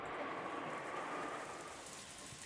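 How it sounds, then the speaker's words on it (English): Steady wind and rain from the Umineko When They Cry visual novel, a constant broad hiss of falling rain with a faint low rumble, even and unbroken throughout. "The silence between the two was filled by the sound of the wind and rain."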